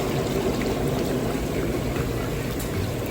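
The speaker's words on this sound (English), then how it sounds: "Right there, the water is boiling now." Water boils in a pot in a home kitchen, giving a steady, dense bubbling and rushing hiss that stays loud and close throughout, with no talking.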